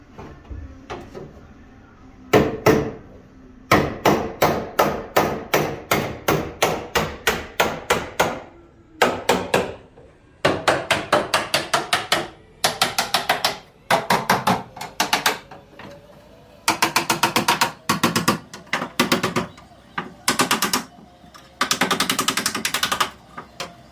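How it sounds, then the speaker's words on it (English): A hammer pounds the rusty, rotted ribs of sheet metal in rapid bursts of sharp metallic blows, fast volleys separated by short pauses, close and loud. "I'm going to try to hammer some of these little ribs out here"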